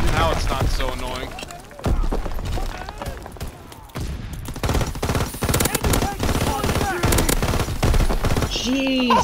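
Sustained machine gun fire in a video game battle against an enemy tank, dense rapid bursts running almost nonstop at close range, with voices talking over parts of it.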